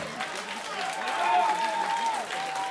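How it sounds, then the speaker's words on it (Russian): Applause from a live audience for a 21-year-old young talent at a comedy show, a moderate wash of clapping that swells slightly in the middle, with a voice and a faint tonal sound over it. "Ваши аплодисменты, молодое дарование."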